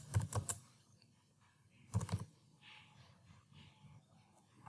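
Two short bursts of keystrokes on a computer keyboard, close and fairly quiet, separated by a pause filled with faint room noise.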